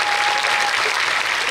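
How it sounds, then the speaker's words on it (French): Live audience at the Prix Chronos 2017 book award ceremony applauds the author, a dense, continuous burst of many hands clapping at close range without any talk. "Vous pouvez l'applaudir très fort."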